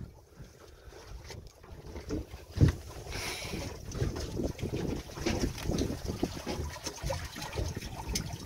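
Steady breeze and water rush around a Bay Hen 21 sailboat under sail on the bay, a continuous soft wind noise with small gusts and one brief thump, no voices.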